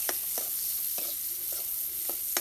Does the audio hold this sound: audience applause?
no